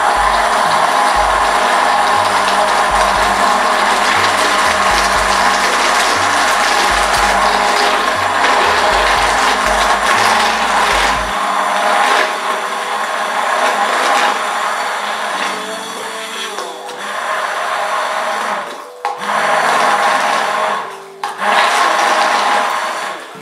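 A hand blender whirs steadily in a bowl of bio hair mask, a loud continuous motor drone with a low rumble in the first half, then briefly dipping and cutting out near the end.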